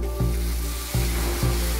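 Loud, close sizzling and bubbling as hot water hits a pan of wheat dalia, with three rhythmic stirring scrapes and no talking.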